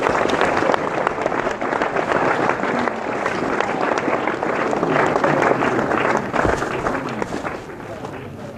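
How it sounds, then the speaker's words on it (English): Assembly of school pupils gives a sustained round of applause, many hands clapping in a thick, even roar that holds steady for several seconds before easing off slightly near the end. "Let's give them another round of applause"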